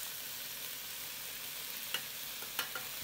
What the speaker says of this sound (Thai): แล้วก็ให้เราผัดให้เข้ากันนะครับ